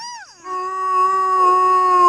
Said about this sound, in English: my Growlithe is barking